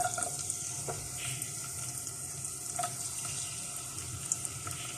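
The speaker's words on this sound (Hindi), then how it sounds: "सॉस पैन के अंदर तकरीबन 2 टेबल स्पून में ऑयल शामिल करूंगी और लहसुन डाल देंगे इसके अंदर।" Garlic frying in about two tablespoons of oil in a saucepan for pizza sauce gives a steady, close hiss and sizzle that runs throughout, with small crackles and no talk.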